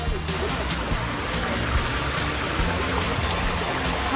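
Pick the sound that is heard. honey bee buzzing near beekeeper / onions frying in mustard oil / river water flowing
river water flowing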